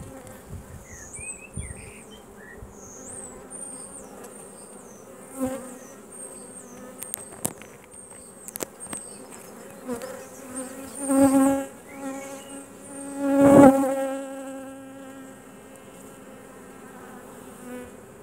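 Carniolan honey bees buzz around an open hive with the frames lifted, a steady close droning hum with individual bees swelling loudly past at times, no talking.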